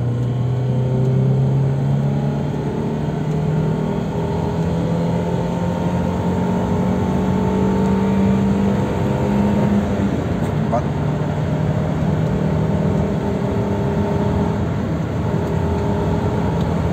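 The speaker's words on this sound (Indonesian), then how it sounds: "Coba lagi akselerasi mulai gigi 2," A car accelerates hard through second and third gear after a tune-up, with a steady loud engine drone rising in pitch and a rumbling road noise throughout.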